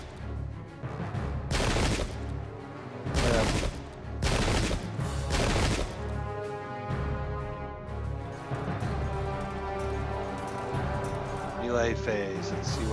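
Musket volleys ring out in a pike-and-shot wargame set at Rocroi, coming as several loud, crackling bursts a second or two apart, with someone talking over them throughout.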